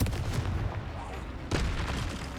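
Explosive Confringo spell bursts in the Hogwarts Legacy video game: two loud, close blasts, one at the start and a second partway through, over a dense rumbling wash of combat noise.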